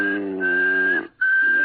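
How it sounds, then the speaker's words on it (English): A person whistles one unchanging, sustained high note with a brief break in the middle, loud and close in a quiet room, in an old-time radio comedy scene. "They say if you whistle in a monotone, maybe that'll work."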